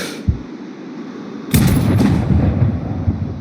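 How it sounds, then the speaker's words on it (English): A single sniper rifle shot fired at a training target in Sniper Ghost Warrior Contracts, a sharp close crack followed by a heavy rumbling boom that lingers, with a faint earlier click. "Now, shoot this target."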